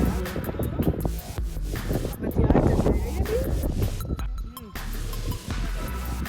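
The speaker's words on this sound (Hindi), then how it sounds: "बहुत तेज हवा चल रही है, बहुत तेज हवा" Strong wind gusting across an open mountain trail while trekking Mullayanagiri, Karnataka's highest peak, a steady roaring rush over the microphone that swells and dips, with a voice speaking over it.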